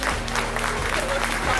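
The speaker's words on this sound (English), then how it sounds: "Give them a big round of applause" Applause from a convention crowd at a cosplay event, a steady wash of clapping with voices and music-like tones underneath, fairly loud and continuous.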